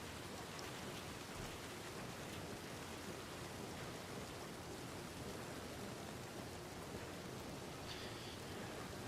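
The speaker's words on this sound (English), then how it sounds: "Of course it starts to rain when I walk outside the post office." Rain falls in the Red Dead Redemption 2 game world, a steady, even patter that stays quiet and constant throughout with no talk.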